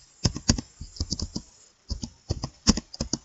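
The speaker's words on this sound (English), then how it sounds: "That's the way you actually get to type in Microsoft Word." Fingers typing on a computer keyboard, a close series of quick clicky keystrokes in bursts with a brief pause in the middle, loud and alone.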